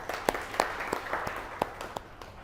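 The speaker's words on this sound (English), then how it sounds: "we have an applause for that scheme" Sparse, light clapping from a small audience at an innovation accelerator meet at S.P.I.T., around eight scattered claps over a faint room hum with no voices.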